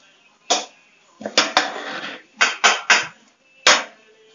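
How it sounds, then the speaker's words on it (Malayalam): Onions stirred in a pot for biryani, a spoon scraping and knocking against the metal in irregular clusters of clatters, close by with quiet gaps between strokes. "ഇടയ്ക്ക് നന്നായിട്ട് ഇളക്കി യോജിപ്പിച്ച് കൊടുക്കുക"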